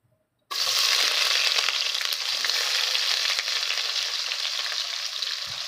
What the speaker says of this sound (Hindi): अब प्याज को अच्छे तरीके से हम इसके अंदर फ्राई करेंगे। घी बहुत गर्म है इसलिए प्याज जल्दी फ्राई हो जाएगा इसके अंदर।